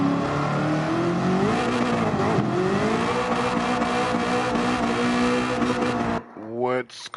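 A race car engine in a racing video game holds a steady, loud drone with shifting pitch for about six seconds, then cuts off and gives a short revving sweep. Talk runs over the engine.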